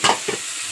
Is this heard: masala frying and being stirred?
yes